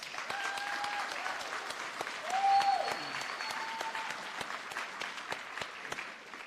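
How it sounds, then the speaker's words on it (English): Graduation ceremony audience claps at length, a steady wash of applause that swells briefly midway, with a few faint whistles or cheers above it. "Let's give our great staff a big round of applause."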